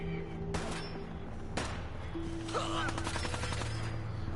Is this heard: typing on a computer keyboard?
no